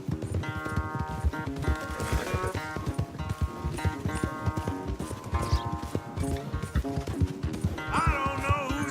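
A horse gallops in Red Dead Redemption 2, its hooves beating a quick, loud, steady clip-clop rhythm close by with tack jingling, during a race back, while game music and voices sit faintly underneath.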